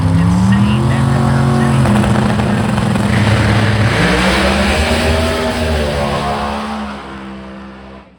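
A 2018 Chevrolet Pro Modified drag racing car's engine roars loud and close, its deep revving tone climbing and shifting pitch before fading away as the car pulls off down the strip.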